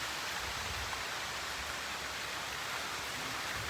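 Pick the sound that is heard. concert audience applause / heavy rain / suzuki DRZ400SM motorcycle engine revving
heavy rain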